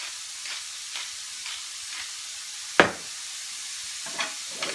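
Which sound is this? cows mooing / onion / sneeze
onion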